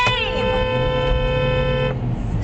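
A car horn blares in one long sustained honk, loud and close, cutting off sharply near the end with traffic rumble underneath and voices faintly present.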